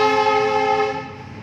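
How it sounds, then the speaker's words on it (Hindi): A passing train sounds a long, loud, steady horn blast with rich harmonic tones, holding strong before fading slightly toward the end, with no talking. "रेलगाड़ी भी इशारा कर रही है"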